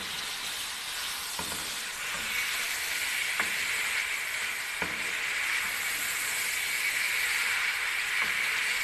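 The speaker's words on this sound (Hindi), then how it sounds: "ये हम अच्छे से फ्राई करेंगे।" Chicken frying in a pan for jalfrezi, a loud, continuous close sizzle and hiss with a few faint scrapes of stirring and no speech.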